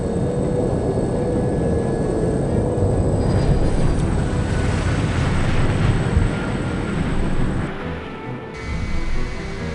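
A steady, loud airplane engine drone fills the cabin of a stricken plane drifting with its pilots dead in the game No One Lives Forever. The roar is continuous and dense throughout, dipping briefly near the end.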